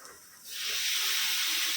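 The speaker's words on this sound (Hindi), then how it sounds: "अब इसके अंदर टमाटर डाल देंगे" Tomatoes hit a hot pan of spices and turmeric for a Kokani dal fry, bursting into a loud, steady sizzle that swells after a quieter start and holds for the rest of the moment.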